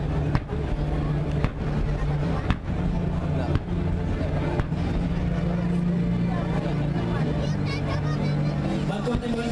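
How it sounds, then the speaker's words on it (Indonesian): Large-calibre naval cannons fire from warships during an Indonesian military anniversary naval gunfire support display. Several sharp booms land in the first few seconds over a constant rumble of engines and crowd noise. "Bantuan tembakan kapal atau naval gun fire support merupakan suatu aksi penembakan dengan menggunakan meriam kaliber besar dari setiap kapal."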